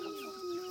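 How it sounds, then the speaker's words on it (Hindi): Chickens in a mountain village cluck with a steady, drawn-out call, close and moderately loud over a soft outdoor background, with no talk. "देखो ये मुर्गियाँ भी है, मुर्गी, बकरी, बच्चे सब बड़े प्यारे प्यारे से हैं।"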